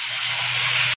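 Dried red chilies sizzle in hot oil in a home kitchen while paneer dalna is cooked, giving a loud, steady frying hiss that cuts off abruptly near the end.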